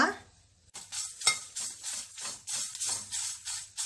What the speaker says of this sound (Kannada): ಇದು ಸ್ವಲ್ಪ ಕೆಂಪುಗಾಗುವ ತನಕ ಹುರ್ಕೊಳ್ಬೇಕು